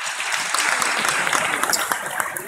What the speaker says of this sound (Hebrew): כפיים ליענקל'ה אורבן